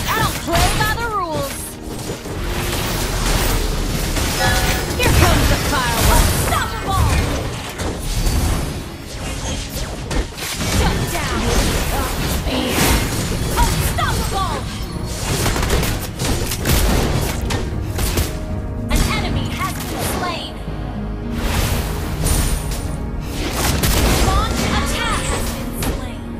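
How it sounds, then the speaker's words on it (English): Dense, continuous battle noise in the video game Mobile Legends, with repeated booms, crashes and whooshes like bursting fireworks, loud throughout with voices mixed in. "Here comes the fireworks!"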